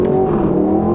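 A 2025 Aston Martin Vantage's engine revs hard and loud up close, a sustained, strongly tonal roar that holds steady throughout.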